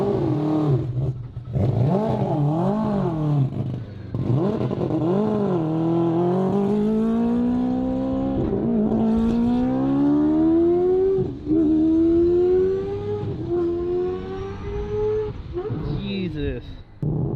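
The rotary engine of a 1300 HP AWD Mazda RX-7 race car revving and droning, pitch rising and falling through gear changes, loud and close, with someone talking over it.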